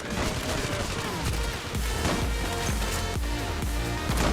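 Rapid, repeated gunshots from an AWP sniper rifle and other weapons in the online shooter Zula Online, a dense, loud barrage of sharp cracks and booming thumps with no talking.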